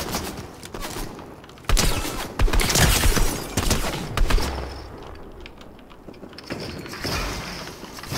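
Gunfire in Fortnite, bursts of rapid shots and sharper single cracks that come and go over about eight seconds, with scattered impacts and quieter gaps between volleys.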